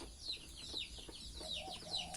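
Chickens cluck faintly on a small rural farm with a homemade egg incubator: quiet, repeated short calls at a distance, with no talk over them.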